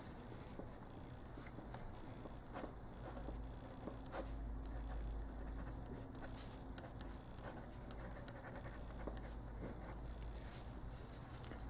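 Steady scratching of marker or chalk on a board while math is worked out, with short strokes and taps running through the whole stretch, close and fairly quiet, no talk over it.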